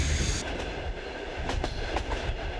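A Trans-Siberian Railway passenger train rolls steadily along the tracks, a dense continuous rumble heard from inside the carriage, with rhythmic clacks as the wheels cross rail joints.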